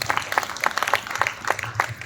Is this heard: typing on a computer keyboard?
no